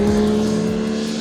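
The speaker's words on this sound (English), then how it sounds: "the rasping triple soundtrack is fantastic." A 2025 Yamaha R9 supersport bike's triple-cylinder engine with standard exhaust gives a steady, loud, rasping drone with a strong tonal hum, heard alone and close.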